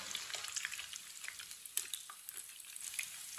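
A potato dish fries in a pan over medium heat, giving a steady soft sizzle with light crackles and occasional stirring clinks, fairly quiet and with no one talking.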